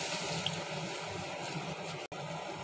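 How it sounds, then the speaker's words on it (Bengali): Tamarind water poured steadily into a spice mixture fried down in oil until the oil separates, a continuous liquid splash and sizzle lasting about two seconds before a brief break. "এবার আমি এই টক জলটা দিয়ে দিলাম।"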